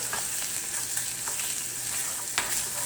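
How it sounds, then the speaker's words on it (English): Tilapia and onions fry in a pan with a continuous close hiss and sizzle, broken by a few soft clinks and stirring scrapes. "doesn't take long for fish to fry"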